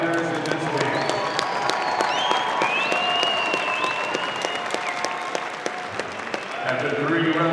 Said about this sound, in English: let's have a big round of applause for both of the fighters in this game.